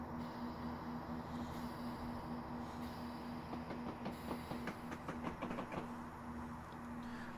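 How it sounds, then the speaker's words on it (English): Class 802 TransPennine Express train on the Huddersfield Line passing another train, a faint steady hum and rumble with a burst of rapid clicks and clatter in the middle, no talk. "So we're now passing that train."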